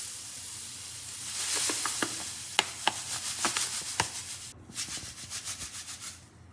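Sugar, 700 g of it, pours into the bowl of a Monsieur Cuisine Connect kitchen machine as a close, grainy rushing hiss. Sharp ticks and taps run through it, then a stretch of rhythmic rasping follows.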